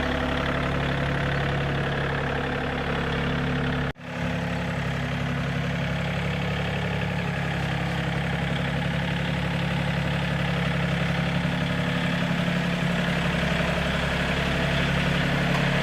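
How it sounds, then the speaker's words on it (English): A tractor engine idles steadily and close by for the whole stretch, a constant low rumbling drone with a strong hum, briefly dipping once before settling back to the same even idle. "I need you to drive the tractor back into the garage"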